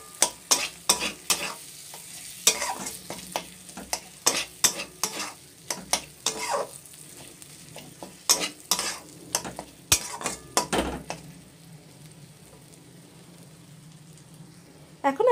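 Spoon scraping and stirring fish pieces coated in spices in a frying pan for Bombay duck (loitta) fry, with repeated sharp clinks and scrapes over a low sizzle, fading to quieter frying near the end.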